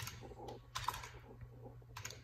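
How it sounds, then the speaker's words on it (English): Keys clatter on a computer keyboard in a quiet room, faint and close, with a short burst of clicks in the middle and another near the end. "let me type in Tavush"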